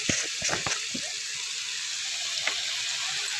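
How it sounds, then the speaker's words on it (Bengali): Tap water runs steadily into a washing bowl while clothes are hand-washed with detergent in a village home, giving a constant close hiss with a few splashy knocks near the start. "আর লাগবে না জলটা বন্ধ করে দিচ্ছি"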